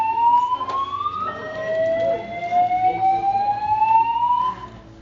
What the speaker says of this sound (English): There was a false alarm, and everyone in the building had to be evacuated.